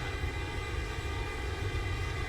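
Loud, steady airliner engine drone inside the X-Plane 11 flight simulator on a FedEx flight from Greensboro to Indianapolis, a dense continuous roar with heavy low rumble and layered tonal hum, no voices.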